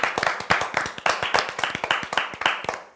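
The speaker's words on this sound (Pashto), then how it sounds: "نو اوس د خپلې دغې بریا ته ځان دپاره چکچکې وکئ" Students applaud themselves in a classroom, producing steady, close, rapid clapping from a small group that keeps up without pause.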